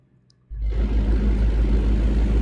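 A heavy truck engine in American Truck Simulator starts up abruptly and settles into a loud, steady low rumble with broadband whir, continuous and close, with no talking.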